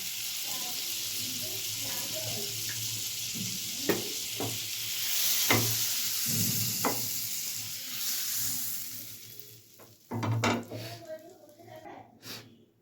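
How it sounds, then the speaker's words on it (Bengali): Butter and a little cooking oil sizzle in a hot pan while tandoori chicken is being prepared, a steady bright hiss with scattered crackles and pops that swells louder near the end. "দিয়ে দেবো সামান্য একটু কুকিং অয়েল"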